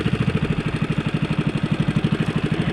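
A small fishing boat engine runs out on the water, rapid even chugging pulses held steady and close, with no talk.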